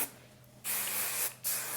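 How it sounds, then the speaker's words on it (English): Hairspray sprayed onto hair for a short updo hairstyle, heard as two close, loud hissing bursts, a longer one of about half a second followed by a quick second spritz. "I'll spray."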